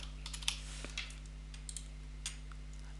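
Faint, sparse clicks of a computer mouse in a quiet room over a steady low electrical hum, a handful of soft taps spread irregularly with no talking.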